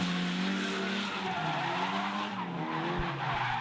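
Drift car tires screeching through a run at a drift competition, a loud continuous squeal with rising and falling pitch over the engine roar, sustained for the whole stretch.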